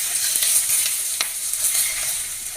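Garlic frying in hot oil in a pan while chicken curry is being cooked, giving a steady close sizzle throughout with light stirring clicks and no talk.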